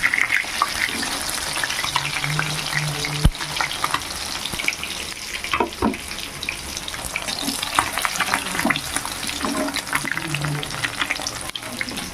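Pieces of rohu fish fry in oil with a dense, continuous close-up sizzle and bubbling crackle. A few spatula scrapes and knocks against the pan break through it, and no one speaks.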